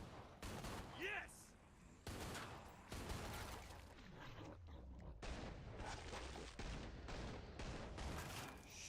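Blaster and gun fire from the Star Wars Battlefront II video game, repeated bursts of shots in an intense, continuous battle mix, with someone talking over it.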